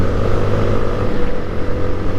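Yamaha Sniper 155 motorcycle engine while riding, a loud close continuous rumbling drone with slight rises and dips in throttle.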